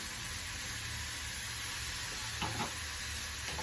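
Onion sautéing with salt and turmeric in a pan, a soft, even sizzle and hiss throughout, with a brief stirring scrape near the end.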